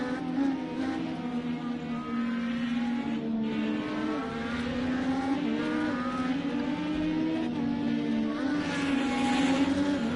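Several IndyCar race cars at Laguna Seca in a racing video game, engines droning steadily at high revs with shifting pitch as cars pass and lap traffic, continuous and fairly loud with no talk.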